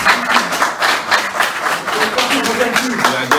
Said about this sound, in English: they are clapping for you as well